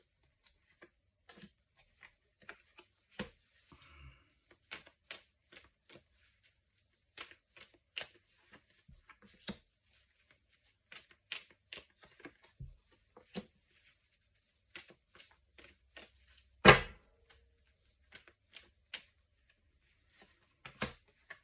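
Tarot cards are shuffled by hand for a nine-card spread, quiet scattered flicks and riffles spread unevenly through the clip, with one louder rustling burst partway along.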